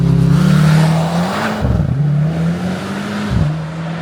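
A Mercedes-AMG C63 S E Performance Estate with a big turbo accelerates hard, its engine roaring loud and close with a deep steady drone that dips briefly at two gear changes, with no talk over it.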